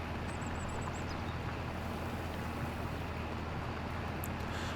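A tractor plows a field in the Farming Simulator 25 video game, giving a steady, continuous low engine drone with broadband rumble that stays even throughout and carries no talk.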